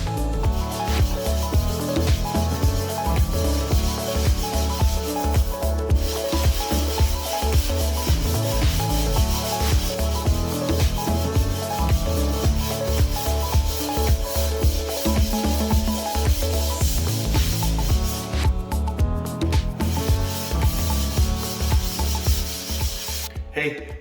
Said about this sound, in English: I'm gonna be sanding all this right now